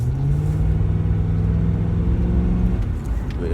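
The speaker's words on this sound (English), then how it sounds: "For being stock and being a V8," A stock V8 in a Ford Crown Victoria Police Interceptor drones with a low, steady rumble while driving, holding a smooth even tone throughout before a small shift near the end.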